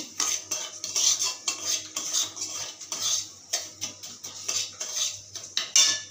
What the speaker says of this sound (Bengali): সুজি দিয়ে একটু ভালো করে নাড়িয়ে চাড়িয়ে নেব